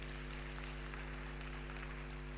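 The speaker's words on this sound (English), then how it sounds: "A round of applause for him again" Audience applause at a postgraduate research workshop, a steady wash of clapping under a constant low hum, filling the whole moment without a break.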